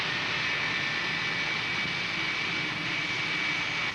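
A gas turbine engine runs through its start-up with a steady, loud, continuous roar and a high whine, heard alone with no voices.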